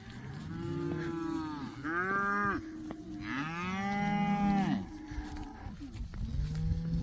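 Cattle arriving home from summer pasture low in several long, drawn-out moos, loud and near, with no talk over them.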